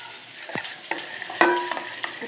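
Three eggs with salt and ground pepper being beaten in a bowl for an omelette, a handful of close, sharp clinks and scrapes of utensil against bowl at uneven intervals over a quiet background.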